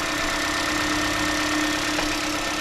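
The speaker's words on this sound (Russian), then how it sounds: "Двигатель немножко работает чуть-чуть неровно, поэтому он подракивает." A Honda Jade engine idles slightly unevenly with a light rattle, a steady, close mechanical drone with faint irregular knocks.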